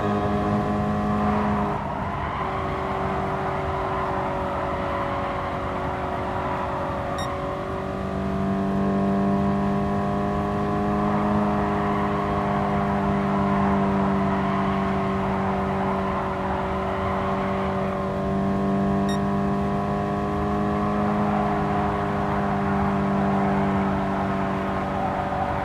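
Race car engines from Gran Turismo Sport hold steady, loud harmonic drones with a brief lift in pitch partway through, several cars running together with no talking.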